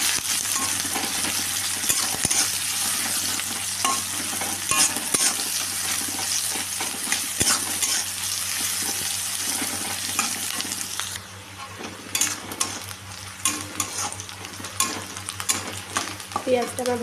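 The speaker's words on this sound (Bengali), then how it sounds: "এগুলো আমি ভালো করে নাড়াচাড়া দিয়ে ভেজে নেবো" Sliced onion and a dried red chili fry in hot oil in a wok, a steady dense sizzle with scraping stir strokes throughout, softening slightly in the last few seconds, with no voices.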